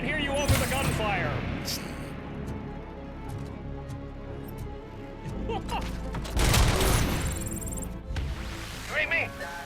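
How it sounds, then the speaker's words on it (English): Automatic weapon fire and mechanical clatter in the shooter Robocop: Rogue City, with a loud burst near the middle and scattered shots around it, mixed under a voice speaking. "I can't hear you over the gunfire."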